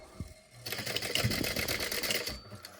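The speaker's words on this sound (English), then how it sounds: "We're going to sew this with a 1/2 inch seam allowance." A sewing machine stitches a backpack seam with a half-inch seam allowance, running in a close, steady, rapid mechanical clatter for about two seconds after a few soft handling sounds.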